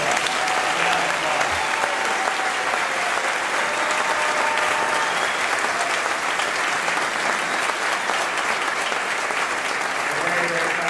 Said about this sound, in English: Let's give my wife the First Lady and Barbara a round of applause.